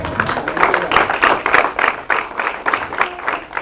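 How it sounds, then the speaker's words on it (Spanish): A church congregation applauds, a dense, steady round of clapping that carries on throughout with small surges of sharper claps. "Denle un aplauso a Él."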